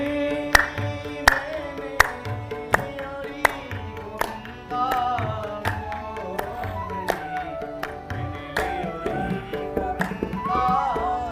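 Audience hand claps keep a steady beat along with a devotional Krishna bhajan sung over harmonium and music, the sharp regular claps sitting on top of the sung melody.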